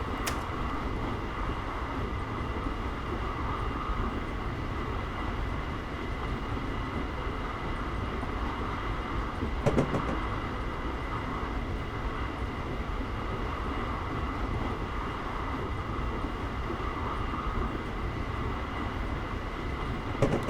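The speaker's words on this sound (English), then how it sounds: "at that point I will then idle the power and just allow the train to continue to coast." A train coasting with power idled on a 1% downgrade in Train Simulator 2015, Irvine to Oceanside route, gives a steady low rumble and hum of wheels on rails, continuous and even throughout, with a brief clank near the middle.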